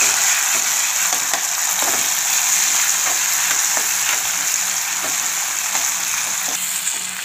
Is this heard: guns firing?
no